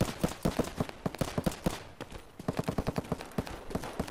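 Rapid bursts of gunfire crackle in a firefight in the game Escape From Tarkov, loud repeated shots in two volleys separated by a brief lull.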